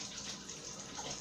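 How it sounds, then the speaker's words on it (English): Water is poured into a cooking pan during home cooking of a roast dinner, a brief steady splashing gush heard close and fairly quiet, with no talk. "I think I should put the water in the pan."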